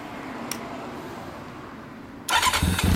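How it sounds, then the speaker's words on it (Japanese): After a quiet stretch with a faint click, a 2006 Kawasaki ZRX400 II motorcycle engine suddenly starts and roars into a loud, rumbling idle nearby. "はい、エンジンを聞かせてもらえるかな。"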